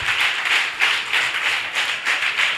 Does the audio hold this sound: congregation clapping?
yes